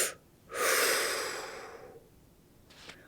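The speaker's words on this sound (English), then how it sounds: "Take a deep breath." A single deep breath drawn in and slowly let out, close and fairly loud, with a soft sound following near the end.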